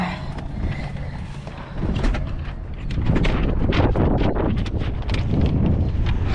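Gusty wind buffeting the microphone in a steady, loud rush during an outdoor preflight check of a small aircraft, with some faint creaking and rattling underneath.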